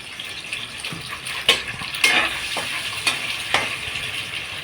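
Six or seven eggs dropped into a hot pan for egg rice, a bright steady sizzle punctuated by a few sharp spatula knocks and scrapes, close and fairly loud with no talking.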